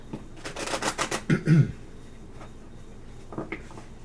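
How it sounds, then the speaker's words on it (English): Tarot cards shuffled by hand in a series of quick riffling bursts over about a second and a half, close and moderately loud, with faint murmuring voices afterward. "One more shuffle, and I'm done."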